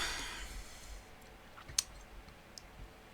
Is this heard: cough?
no